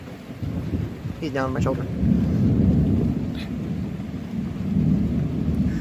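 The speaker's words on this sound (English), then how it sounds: "We're trying to hear the rumbles of thunder." Thunder rolling during an intense storm with rain, a low sustained rumble swelling twice under steady rain noise, while people talk briefly nearby.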